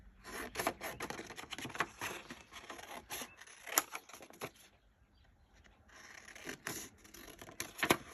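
Scissors snipping through paper while making journal tags, a run of short crisp cuts and rustles, close and moderately quiet, with brief pauses.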